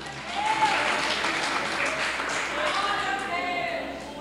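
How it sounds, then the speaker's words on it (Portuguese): Sustained applause from a big church congregation during a service, continuous and fairly loud, with some voices cheering beneath the clapping. "Uma salva de palmas para o Rei da Glória"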